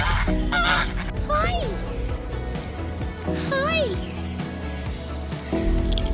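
Geese honk loudly in a farmyard prank where their owner pretends to faint, two clear rising honk calls standing out over steady background noise, with voices nearby.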